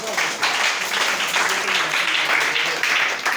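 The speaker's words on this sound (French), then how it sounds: "Acclamez très fort pour le Seigneur" A church congregation applauding loudly, dense sustained clapping that fills the space with a roar of voices mixed in.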